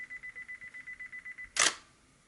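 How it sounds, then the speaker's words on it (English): A Nikon D7100 fitted with a Neewer grip fires its shutter once after a run of evenly pulsed self-timer beeps, a single sharp close click ending the sequence, with no voices. "flip the shutter button here to take a picture"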